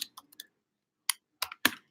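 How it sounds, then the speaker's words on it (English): Typing on a computer keyboard: a few sparse, close key clicks at first, then a short pause and a quick burst of sharper taps, in a quiet room with no talking. "I'm also typing this."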